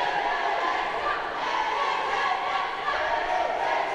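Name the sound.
boxing crowd cheering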